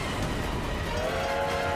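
Train rumbling past in the Little Big Planet 2 video game, a loud, continuous rolling roar with a faint whistle-like tone, close and steady throughout with no talking.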